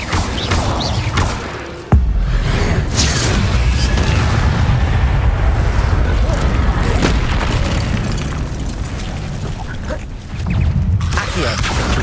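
A fire spell blasts out in Hogwarts Legacy, a sharp booming burst followed by a sustained roaring, crackling rush of flame and magic effects amid continuous game ambience, loud and close with no talk.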